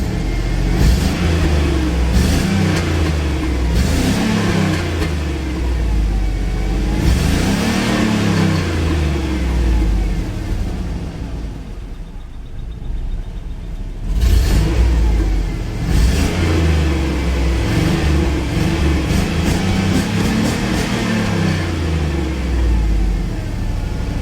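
A Cadillac Escalade engine idles roughly and revs in repeated rising surges, loud and close, with a brief dip to a quieter idle midway before the revving picks up again; no one speaks.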